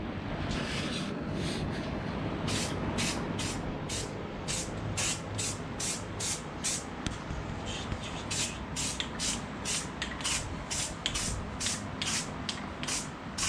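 Bed liner sprayed onto a truck as a steady, loud hiss, with a rapid series of short pulsing bursts from the spray gun running through most of the stretch.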